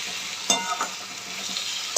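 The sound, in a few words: stirring thin potato slices with spices in a pan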